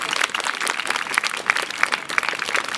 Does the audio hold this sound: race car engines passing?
no